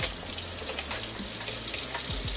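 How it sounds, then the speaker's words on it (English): Tap water runs steadily into a sink as Dungeness crabs are rinsed and scrubbed with a toothbrush, a close, continuous splashing stream with occasional low knocks of shells. "use a toothbrush and give these guys a nice rinse"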